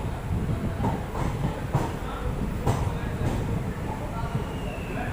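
The Sabarmati Express pulls out of Beawar station with a steady low rumble and rattle of rolling carriages, heard from on board, broken by faint rhythmic clacks over the rail joints.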